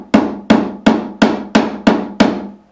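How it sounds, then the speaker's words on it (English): Seven evenly spaced, crisp taps of a nylon-ended fretting hammer seating a fret into an acoustic guitar's fingerboard, each a sharp close knock with a short ringing decay, no talking. "I'm just going to gently tap it in with a nylon end of a fretting hammer"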